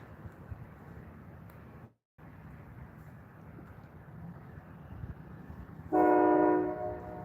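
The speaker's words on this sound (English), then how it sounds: "Oh, I hear a train." A train rumbles past on the track in steady low wind-blown noise, with a short horn-like tonal blast near the end, heard from outdoors at moderate distance.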